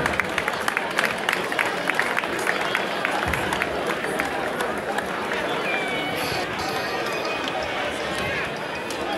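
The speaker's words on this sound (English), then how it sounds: "another big round of applause for the ambassador and the legend" Crowd at a boxing night event applauding an ambassador and a boxing legend, a dense, sustained wash of clapping and cheering with crowd noise throughout, loud and continuous.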